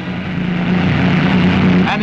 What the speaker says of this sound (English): The plane swoops down with a skyhook.